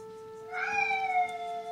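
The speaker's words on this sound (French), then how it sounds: "vous risquez d'entendre, quand je filmerai à la maison, mon chat Karma" Karma, a pet cat at home, lets out a clear, drawn-out meow rising over a steady background hum, close to the microphone and alone with no talk.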